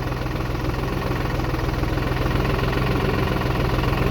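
A New Holland TD4 65B tractor engine runs steadily at idle, a continuous loud low rumble with a slight knocking vibration and no break across the whole stretch.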